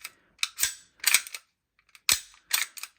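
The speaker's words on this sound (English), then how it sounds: "Put this on, that slides on nicely." A pistol slide is fitted onto a Glock frame with a stock lower, producing a series of sharp metallic clicks and sliding scrapes in short bursts, close and crisp with silence between.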